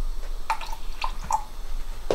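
Water poured and dripping into a homemade mayonnaise mixture of egg and oil, a few small splashy drips and squishy plops in close succession, near and fairly loud, with no talking.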